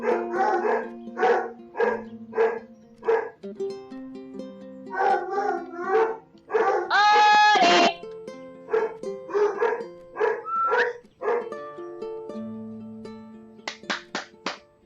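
Game dogs in Marie's Room bark repeatedly, with quick yapping volleys, a longer whining or howling stretch in the middle and more barks after, close and loud throughout, without talk.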